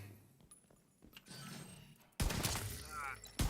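Gunfire in the Payday video game, a quiet stretch followed by a sudden loud burst of rapid overlapping shots with clattering action sounds, up close.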